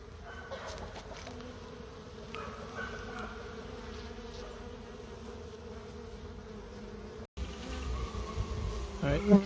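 Honeybees fan at the entrance of a hive newly installed from a three-pound package, making a soft, steady buzzing drone that continues throughout, with a brief cut near the end.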